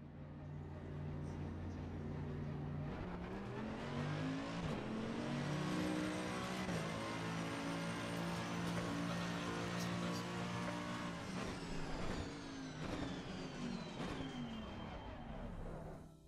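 A Ferrari 296 engine in a racing simulator lapping Imola, a loud continuous drone rising and falling in pitch with gear changes throughout, no talk over it.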